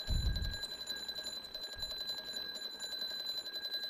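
A sound alarm trap in Ark: Survival Evolved rings with steady high-pitched tones, quiet and continuous, after a brief low thump at the start.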